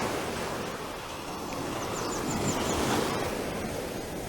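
Ocean waves wash steadily onto sand at Maxwell Beach at high tide, a broad, continuous surf roar with some wind rumble on the microphone and faint bird calls above.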